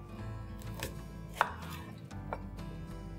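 A knife chops onions on a board in a home kitchen while mustard oil heats for a fish masala, making about half a dozen crisp, unevenly spaced strikes over a low background hum.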